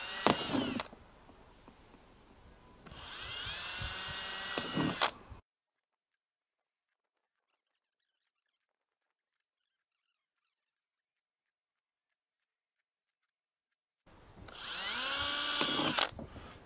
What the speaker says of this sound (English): Just go ahead and drill where those dots are.